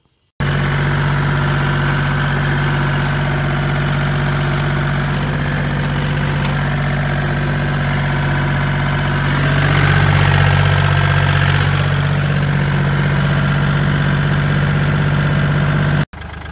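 A tractor with a chain hooked to its drawbar idles steadily close by, a loud, even low rumble that swells slightly midway before cutting off abruptly at the end, with no voices.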